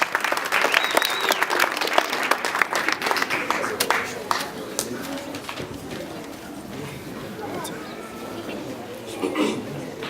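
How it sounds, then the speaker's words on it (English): An audience at a speech contest applauds warmly, dense clapping that fades after a few seconds while birds coo nearby and a speaker's voice starts up under it. "With a warm round of applause."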